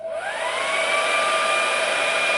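A Primark hair dryer runs close and loud, a steady airy roar with a rising whine as it spins up, then holding level without pause.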